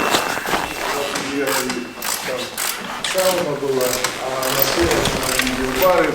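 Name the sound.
tensioning the track on a Polaris snowmobile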